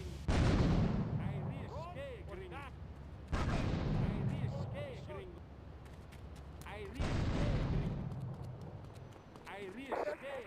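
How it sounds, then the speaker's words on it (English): Grenade blasts in GTA3, with three heavy explosions at spaced intervals, each a sudden loud boom fading into rumble, with game voices talking between them. "I'm also going to toss a few grenades in there to see if I can get any more."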